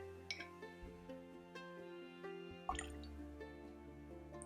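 Small drops of water fall from a spoon into a glass of Caol Ila Feis Ile 2021 12-year-old Islay whisky, making a few faint, soft drips and taps over a quiet, steady background hum.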